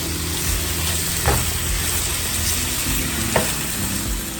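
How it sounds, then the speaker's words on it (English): Food sautés in a hot pan with a steady, dense sizzle and a couple of brief stirring scrapes, with no one talking. "You're just gonna simply saute these. Saute them until they're nice and soft."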